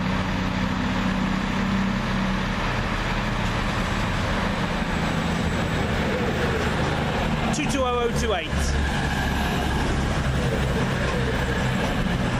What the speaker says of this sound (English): Next up to leave is the 1607 cross-country service from Reading to Newcastle.